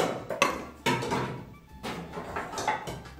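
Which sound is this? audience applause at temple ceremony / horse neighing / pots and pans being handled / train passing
pots and pans being handled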